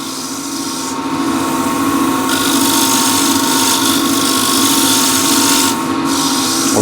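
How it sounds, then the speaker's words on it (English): A wooden bowl spinning on a lathe is shear scraped with a turning tool, making a continuous, even rasping hiss and hum that holds steady throughout, with no voices. "Just blending a few areas. Some shear scraping."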